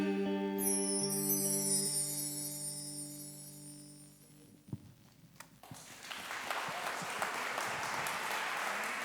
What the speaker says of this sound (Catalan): Fort aplaudiment a la Maria Ricard, a la veu principal, i l'Aina als coros preciosos.